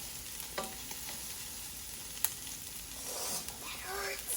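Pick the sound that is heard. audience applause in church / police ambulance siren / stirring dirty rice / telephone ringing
stirring dirty rice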